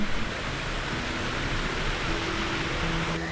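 A small artificial waterfall in a forest beside a road pours in a steady, broad rushing wash that stays even and close throughout, with a faint tonal hum from nearby traffic underneath.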